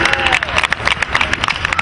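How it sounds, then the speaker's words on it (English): A crowd at a high school football game claps and cheers for a player's parents, a short burst of dense, close applause. "Round of applause, everybody."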